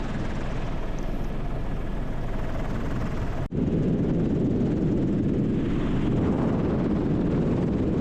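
A tour helicopter flies over Hawaii, its cabin filled with a steady, loud rotor and engine roar that briefly drops out before resuming just as strongly, with no talking.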